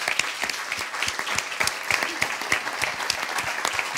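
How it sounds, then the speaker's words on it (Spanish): Audience applause at a 2015 San Sebastián film festival talk event, a dense steady patter of many hands clapping close and loud throughout, with no voices over it. "vamos a darle un aplauso a Carlos Álvarez Novoa para empezar hoy"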